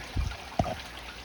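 Water driven by an 1,100-gallon pump running at 65% rushes through a gold sluice while Lake Superior gold concentrates are cleaned up. It makes a steady, moderate wash with a couple of low splashing thumps and no speech.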